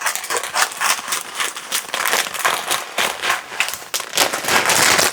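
A bag of fine, dry egg noodles tipped into a pot of chicken noodle soup makes a close, steady crinkling and rustling clatter that keeps going for several seconds with no talking.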